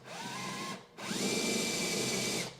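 A power drill whirs in two bursts while drilling a hole for a hidden magnet catch, a short run, a brief pause, then a longer steady spin with rising pitch before stopping.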